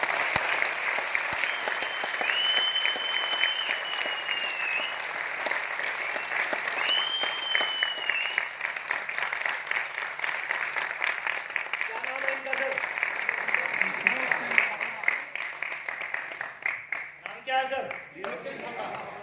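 Prolonged audience clapping at a business motivational talk in Aurangabad, steady and fairly loud for most of the stretch, with a few whistles early on and the clapping thinning toward the end.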